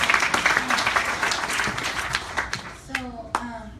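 Audience at a NoDAPL event in New York clapping, a lively spread of hand claps that thins out toward the end into a few separate claps, with voices talking over it.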